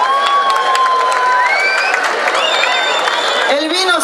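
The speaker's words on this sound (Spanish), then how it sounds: "un aplauso para los hombres tucumanos" An audience at a folk festival stage show claps and cheers, dense sustained applause with shouts and whistles, loud and close, filling the whole stretch.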